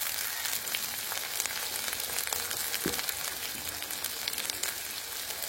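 About 50 grams of chopped shallots and capsicum frying in oil, a dense crackling sizzle like light rain that holds steady throughout, with a faint knock of a spatula midway.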